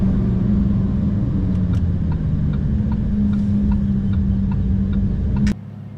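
A powerful sports car's engine drones steadily while driving, a loud, constant low rumble with faint clicks on top, cutting off abruptly near the end.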